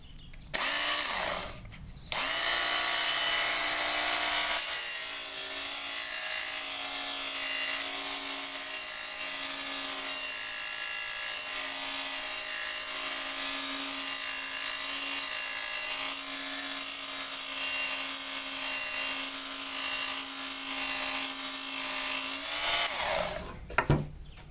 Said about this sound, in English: I'm really pleased with its ability to sharpen lawnmower blades.